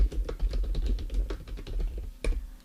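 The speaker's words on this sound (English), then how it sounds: "go to Google, and then type in your company name" A company name is typed into Google on a computer keyboard, a quick run of close, crisp key taps in an irregular rhythm, ending with a sharper clack near the end.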